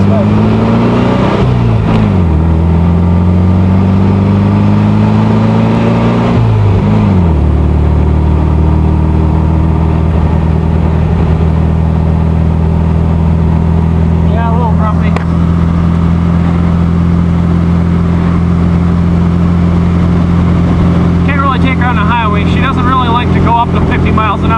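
A 1952 MG TD kit car running a 1971 VW Beetle engine drives along a highway, its air-cooled engine droning loud and steady with rising revs through gear changes, someone talking over the noise.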